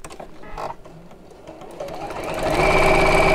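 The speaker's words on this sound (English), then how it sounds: "And then we'll sew across the top, using 1/4 inch seam allowance." A sewing machine stitches across the top of a fabric bag with a quarter-inch seam allowance, running over the strap edges: after a few quiet clicks it settles into a steady, close, loud mechanical whirring that builds toward the end.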